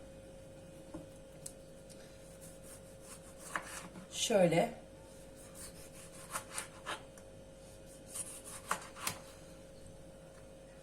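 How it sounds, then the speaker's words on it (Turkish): A knife cuts two fresh tomatoes in a home kitchen with a few faint, scattered taps and rubs, and a short spoken word breaks in midway. "iki tane domatesimi doğramakla başlayacağım."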